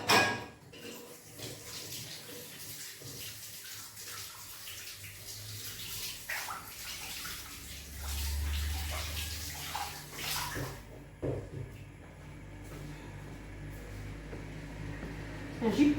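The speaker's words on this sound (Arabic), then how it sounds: "غسل يدي ونرجع لكم" Hands are washed under a running tap in a home kitchen during baking, a steady close splash and stream of water lasting throughout, with small clatters near the end.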